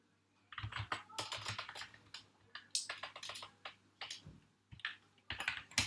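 Close typing on a computer keyboard, quick irregular clusters of key clicks with brief pauses between bursts, quiet and alone, entering a new connection string.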